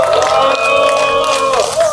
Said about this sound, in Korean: 장성문 동지께 다시 한번 힘찬 박수